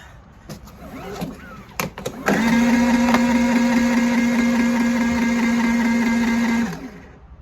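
A WEN portable generator engine catches and runs after a few sputtering attempts, settling into a loud, steady hum while warming up before cutting off near the end.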